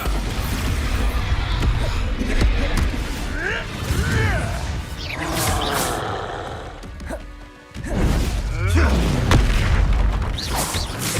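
The Expulso explosion spell in the Hogwarts Legacy video game sets off heavy booming blasts and crashing debris amid combat whooshes, with a brief lull before another loud burst and voices mixed in.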